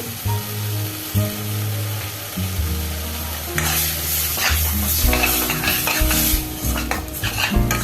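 Ghugni masala spices with Kashmiri chili powder frying in a pan while being stirred, a close continuous sizzle with repeated scraping of a spoon against the metal pan, growing louder and busier partway through.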